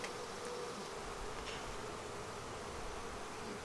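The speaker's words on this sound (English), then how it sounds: "Okay, you're full of bees, that's for sure." Bees swarm through an opened beehive during a honey harvest, making a dense, continuous buzz that stays even and fairly soft throughout, with no voices.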